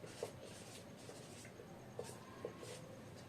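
A pen or chalk makes a few short, faint taps and strokes on a board during a physics lesson on the speed of light. The marks are spaced out over a quiet room background, and no voice is heard.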